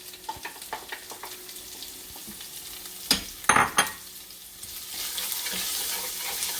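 Masala, turmeric and cumin frying in a pan, a low steady sizzle with light spoon taps, then a short burst of louder clattering and a swelling hiss near the end, close by and without talking.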